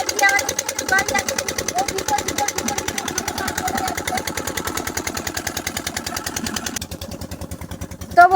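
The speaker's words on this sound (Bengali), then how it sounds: "আমাদের মেশিন দিয়েই এখন আমাদের জমিগুলোতে জল দেওয়া হচ্ছে" A motor-driven pump sends irrigation water through a pipe to village farm fields, a loud, close, continuous rapid engine chugging that stays steady throughout.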